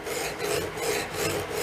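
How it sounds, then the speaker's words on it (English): A metal file rasps back and forth against the curved steel blade of tree branch loppers, steady rhythmic strokes close up, alone with no talk. "once in a while I turn my file, you'll see it spin when I'm working it"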